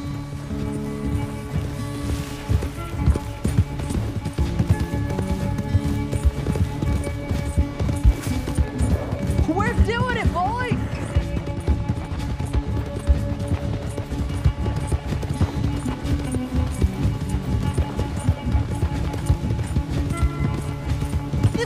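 Horse galloping in Red Dead Redemption 2 during a race back along a path to a ranch, a steady clip-clop of hooves running through the whole stretch beneath game music and other in-game sound.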